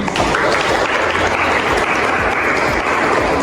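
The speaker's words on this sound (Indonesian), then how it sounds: "Teman-teman, kita beri aplaus untuk saudari Nur Hayani" A university lecture audience applauds a student, dense continuous clapping from many hands filling the room at steady volume from start to finish.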